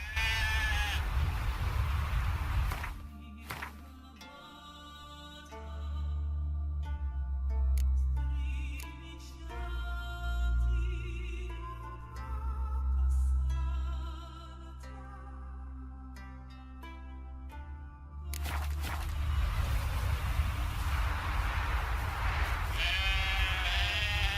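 Sheep bleat repeatedly in The Witcher 3: Wild Hunt, close and loud at the start and end, over a low music-like drone through the middle.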